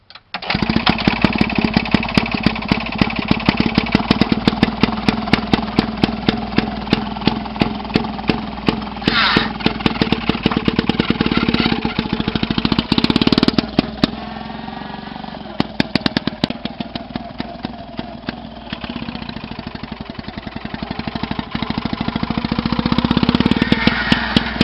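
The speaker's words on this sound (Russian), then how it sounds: "уникальный самодельный мини-трактор с двигателем от стиральной машины Matec, трехступенчатой коробкой передач и задним ходом" A homemade mini tractor powered by a Matec washing machine engine, fitted with a three-speed gearbox and reverse, runs steadily throughout with a buzzing, rattling small-engine drone and no talk.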